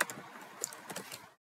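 A computer keyboard is typed on in a quick, light burst of clicking keystrokes, close and fairly quiet, with no voices.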